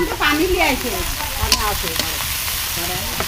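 Taro stem (kochur thor) cooks in a pan with a crackling sizzle and stirring scrapes, while voices murmur briefly over it.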